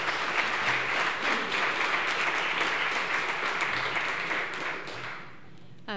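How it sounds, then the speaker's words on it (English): An audience at a marine science conference applauds steadily after a speaker is introduced, and the clapping fades out near the end. "Ladies, gentlemen, and everyone in here, let's give a big round of applause for Joanne."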